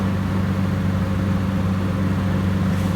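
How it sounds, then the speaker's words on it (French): A Citroën Traction with a 60 hp engine drives along at speed, giving a steady droning engine hum with a constant low tone and road noise, close and even throughout. "Forcément le moteur, on l'entend."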